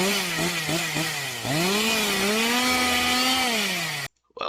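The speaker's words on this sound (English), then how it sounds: "quite the chainsaw there, friend" A Husqvarna chainsaw runs close and loud, its engine droning steadily with a few quick blips of the throttle before a longer rev, then cutting off abruptly near the end.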